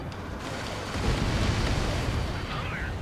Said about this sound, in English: But that was a big explosion.